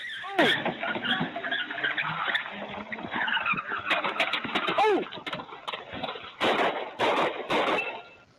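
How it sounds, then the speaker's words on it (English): A car speeds away from a police stop in Dalton with its tires skidding and squealing, a sustained screech with rising and falling tones, mixed with voices and other noise. "Wilson speeds off, dragging the officer."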